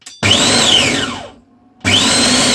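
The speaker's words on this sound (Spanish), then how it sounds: "Yo le voy a dar un par de golpes de turbo." A Monsieur Cuisine Plus food processor chops meat in two loud turbo pulses, each a sharp whirring burst that dies away, separated by a short silence.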